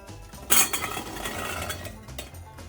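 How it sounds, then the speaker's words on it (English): Cranberries tumble into a half-gallon glass jar with a sudden burst of rattling clinks that thins into a scattered patter, close and fairly loud, then settles. "put the berries into our jar"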